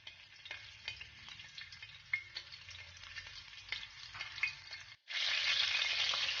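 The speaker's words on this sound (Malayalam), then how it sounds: "എണ്ണ ചൂടായി വരുമ്പോഴേക്ക് നമുക്ക് ഇതിലേക്ക് 4 പച്ചമുളക് ചെറുതായിട്ട് അരിഞ്ഞതൊന്ന് ഇട്ടുകൊടുത്ത് വഴറ്റിയെടുക്കാം" Chopped green chillies sizzle in hot oil, with faint stirring scrapes over a low fry; after a brief pause a much louder, brighter hiss bursts up and holds to the end.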